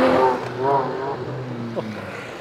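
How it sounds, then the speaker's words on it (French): Three Porsche Boxster Spider sports cars, two red and one grey, pass in a convoy at a Porsche gathering, their engines rising and falling briefly up close. "Donc là on a un convoi de 3 Spider, 2 rouges, une grise."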